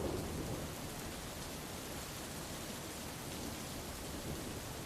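A thunderstorm with steady, dense rain, a continuous broadband wash of noise at even level throughout with a low rumbling undertone, no distinct claps and no voices.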